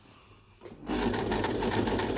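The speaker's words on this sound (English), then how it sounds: "I'm just going to go back stitch a little bit and then I'm going to continue." A sewing machine stitching a zip onto fabric for a pouch or bag, a faint idle hum and a small click before the motor starts into a steady, close whirring run.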